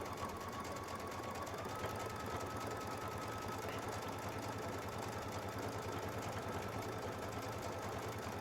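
Baby Lock sewing machine fitted with a leather roller foot stitches decorative quilting patterns, giving a steady, continuous mechanical whir with rapid needle chatter, close and even throughout with no talking.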